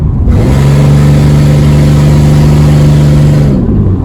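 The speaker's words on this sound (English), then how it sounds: "I finally got the exhaust loose. It's really loud, but she runs pretty good." A 2003 Chevy Impala 3.4 engine revs hard and loud with a rough, rattling exhaust note from a loosened exhaust, holding a steady roar before dropping back toward idle.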